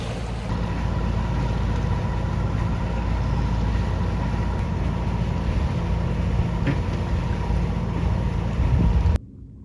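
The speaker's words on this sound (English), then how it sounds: "our wind completely died and we needed to motor the rest of the way back to Muskegon" Sailboat motoring back toward Muskegon after the wind died, its engine giving a loud, steady drone with rushing wind noise on the microphone for about nine seconds before it cuts off abruptly.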